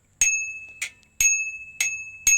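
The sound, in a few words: cheap bicycle bell on Kmart Copenhagen commuter bike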